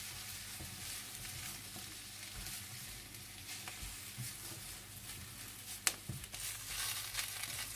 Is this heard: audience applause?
no